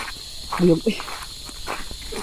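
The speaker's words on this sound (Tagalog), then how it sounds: "So marami ng mga huni ng mga kuliglig." Crickets chirp at dusk around six in the evening, a faint scattered trilling under background noise with a few soft bumps and rustles nearby.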